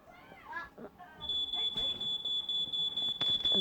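Fire alarm tone played through a speaker indoors: after a moment of talk and handling noise, a steady high-pitched electronic beep sounds continuously, close and fairly loud, with people talking underneath.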